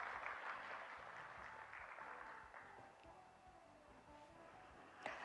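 Faint, distant applause from the audience at an international radioactive waste safety symposium, an even patter of clapping that slowly fades, with a sharper clap near the end.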